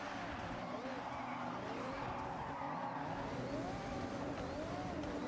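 Toyota Supra drifting on a drift track in the racing game Forza Horizon 6, with a continuous, loud engine roar and wavering tire squeal that rises and falls as the car slides, sustained without a break.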